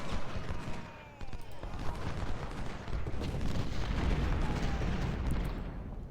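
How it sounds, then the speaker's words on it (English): Artillery guns fire in the Civil War strategy game Ultimate General: Civil War, a dense, continuous rumble of booms and musketry over a roaring battle din that stays loud throughout, with no talking. "I'm going to bring these guys out and get these guns firing"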